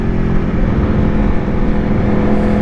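A 2024 Aprilia Tuono V4 1100 Factory motorcycle's V4 engine roars loud and close with a steady, sustained drone while the bike is ridden, no voices over it.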